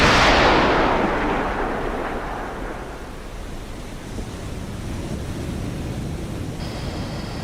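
A submarine torpedo fired from tube 1 in a naval video game: a loud broadband whooshing rush at the start that fades into a long sustained rumble, ending in a faint high whine.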